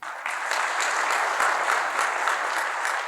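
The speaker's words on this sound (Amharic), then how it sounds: "ይሄ ጭብጨባ ነገር ላንተ ሊሆን ይችላል" An audience claps at an entertaining talk, a dense, steady round of applause from many hands, close and continuous for the whole stretch with no voices over it.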